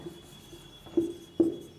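Hand writing on paper, soft scratching strokes with two firmer taps near the end, quiet and close under a steady faint hum.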